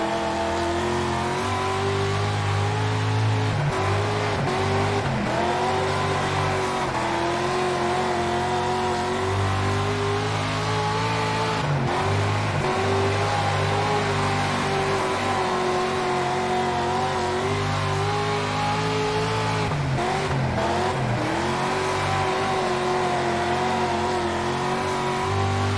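A dirt race car engine lapping a track in the game World of Outlaws: Dirt Racing, loud and steady throughout, its pitch rising and falling with throttle through corners and straights.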